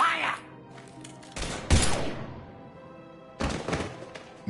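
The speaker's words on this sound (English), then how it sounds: "Now open fire!" Bursts of gunfire in the Mass Effect 3 video game, two loud volleys a couple of seconds apart with thumping impacts, mixed with game dialogue voices.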